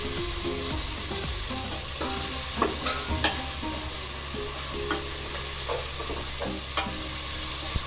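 Tomatoes, coriander and mint frying in a pan for a baby potato pulav, a continuous loud sizzle with occasional spoon stirs and scrapes scattered through it.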